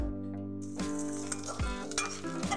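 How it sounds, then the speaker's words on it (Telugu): Green chilies fry in hot oil for a village-style tomato chutney, crackling and sizzling up close while being stirred, with a few soft clinks of the utensil against the pan. "ఇలా పచ్చిమిర్చి మొత్తాన్ని వేసేసుకొని బాగా ఒకసారి కలుపుకొని ఈ పచ్చిమిర్చి వేగేంత"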